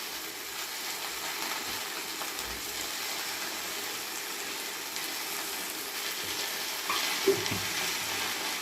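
Okra frying in a pan for a bendakaya fry, a low, steady hiss at moderate distance with a soft knock near the end and no talk.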